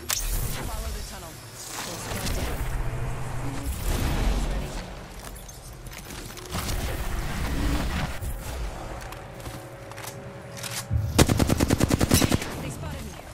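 Apex Legends gunfire bursts in short volleys, then a loud, rapid automatic stream near the end, with in-game sounds and a player talking throughout.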